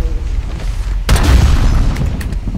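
Grenade blast in Call of Duty Modern Warfare multiplayer, one sudden loud deep boom that rolls into a rumbling decay over steady game noise.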